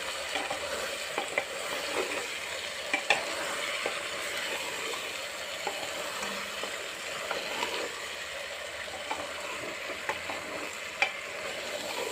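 Chicken feet with chili powder and bay leaf being stirred in a pan, a steady frying sizzle with scattered faint scraping ticks of the spoon throughout.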